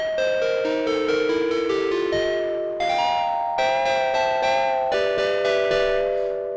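An Arturia MicroFreak synth keys preset called Ice Cold, intentionally noisy with slight pitch drift, plays a chiming, bell-like chord progression of struck notes with a hissy noise bed, loud and close with no voices.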